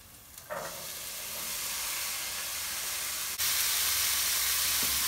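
Chickpeas tipped into a pan of golden-brown frying onions, raising a steady close sizzle and hiss that grows louder after a sharp jump midway, with no talk.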